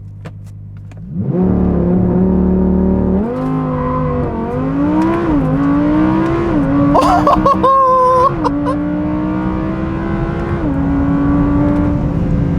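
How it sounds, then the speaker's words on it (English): An Audi R8 V10 Plus with center exit exhaust launches hard from a standstill, its engine roaring up through rising revs with quick gear changes and brief dips, loud from inside the car. "That has to be one of the best launches ever that I've had."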